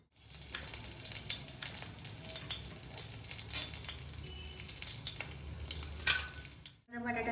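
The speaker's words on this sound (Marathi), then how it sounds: "आता मी तुपात खिचडी करणार" Khichdi cooking in ghee in a home kitchen, a soft steady sizzle with scattered crackles and light utensil clicks, fairly quiet and without talk.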